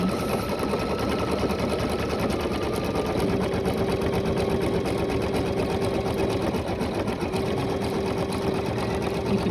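Embroidery machine stitching out a unicorn design, a steady, continuous rapid needle chatter with a faint motor hum running the whole time, close and alone.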